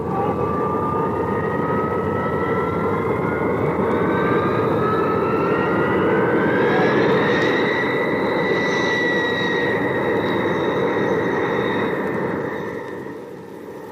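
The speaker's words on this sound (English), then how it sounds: "a streamlined jet warms up prior to sweeping down the world's longest commercial runway" A streamlined jet airliner warms up at Logan Airport in Boston, its engines holding a loud, steady roar with rising whining tones that swell midway and ease slightly toward the end, with no voices over it.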